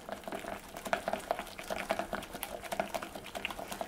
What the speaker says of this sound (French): Et on le retransfère dans le bol du début. Et là, on va tout mélanger ça.